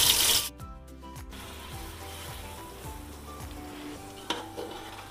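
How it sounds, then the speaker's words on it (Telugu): Marinated chicken frying in biryani masala in a pan, a soft continuous sizzle under repeated spoon stirs, after a brief burst of noise at the start and a sharp utensil knock near the end. "ఇప్పుడు మ్యారినేట్ చేసి పెట్టుకున్న చికెన్ వేస్తున్నాను."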